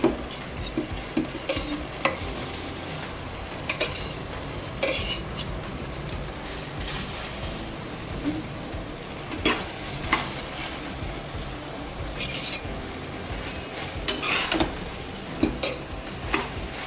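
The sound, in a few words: stirring cooked rice into fish biryani masala in a pot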